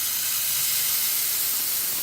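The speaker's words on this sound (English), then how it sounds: "Nice strong steam." Steam wand of a serviced La Pavoni Volt espresso machine gives a strong, steady, close hiss that runs unbroken for the whole two seconds with no voices.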